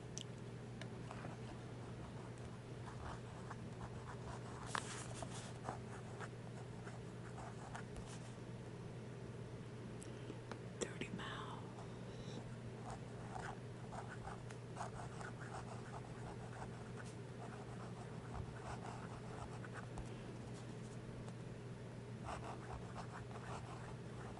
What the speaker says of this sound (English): I'm just writing in a hurry, fighting time.